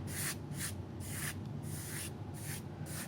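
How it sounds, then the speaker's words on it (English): Gritty sand scraped across carpet after repeated deep cleaning with a Hoover Tempo Widepath, in six rhythmic, close, steady rasping strokes with no talk. "you might be able to even hear me scraping the gritty sand"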